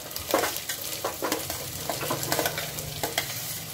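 Vegetables are added to browned onions frying in a pan for dahlia and stirred, a soft steady sizzle broken by repeated scraping strokes of a spoon, close and fairly quiet.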